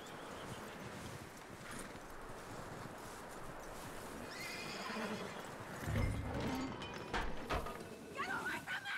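A horse in the video game Red Dead Redemption 2 neighs and clip-clops, with hooves thudding softly under ambient game sound and a whinny rising near the end, fairly faint overall.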